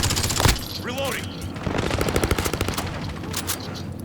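Rapid automatic gunfire in the Modern Warfare video game, bursts and single cracks crackling close and loud, with a player's voice talking over the shooting.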